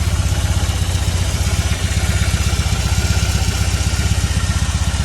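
A motorcycle engine runs steadily and loudly close by, with a fast, even pulsing throb and clattery mechanical texture throughout, no voices over it.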